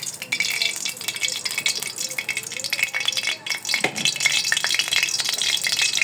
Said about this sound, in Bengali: এবার তেলের উপরে দিব পেঁয়াজ, রসুন আর পাঁচফোড়ন।